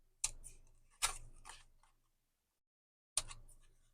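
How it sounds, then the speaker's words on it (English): Scissors snip the corners of freezer paper in a few sharp, separate cuts with short gaps between them, close and clear, with no talking. "And then we can snip the corners."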